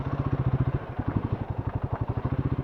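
A motorcycle engine idles close by with a fast, even put-put pulsing throughout, steady and moderately loud with light mechanical clatter.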